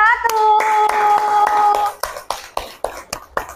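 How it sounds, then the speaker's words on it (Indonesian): Classroom of students clapping for the first presentation group, a short burst of scattered hand claps following a teacher's voice, trailing off into a few separate loud claps. "Beri tepuk tangan untuk kelompok"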